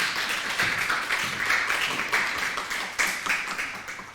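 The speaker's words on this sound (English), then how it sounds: "please a warm applause for Kianí" A warm round of audience applause greets a performer taking the stage, a sustained, even roar of many hands clapping together, steady and fairly loud throughout.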